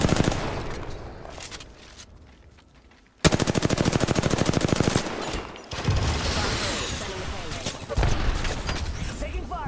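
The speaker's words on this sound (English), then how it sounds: "Under fire." Rapid video-game machine-gun fire in a tense firefight, dense bursts of automatic shots loud and close, with gaps and distant rattles, while players talk over the shooting.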